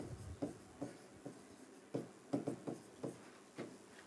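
Chalk tapping and scraping on a classroom board during a biology lesson, about ten short strokes and taps in uneven rhythm, close and moderately loud with no talking.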